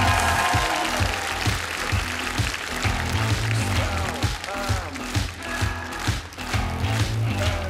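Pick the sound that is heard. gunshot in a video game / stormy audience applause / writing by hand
stormy audience applause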